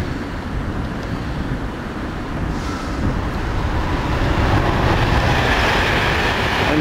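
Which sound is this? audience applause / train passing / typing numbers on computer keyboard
train passing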